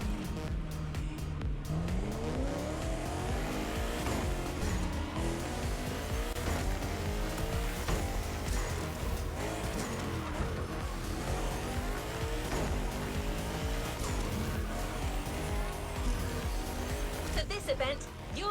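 Toyota Supra racing in a video game around a monumental lighthouse, its engine note rising and sweeping with tire squeal through the clip, loud and steady, under constant game music and a talking voice.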